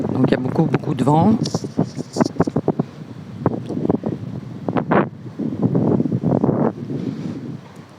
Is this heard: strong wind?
yes